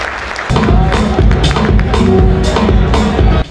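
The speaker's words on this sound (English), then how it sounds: "Round of applause." Audience applause at a Namibia Premier League football awards ceremony, a short loud burst of clapping from a crowd indoors.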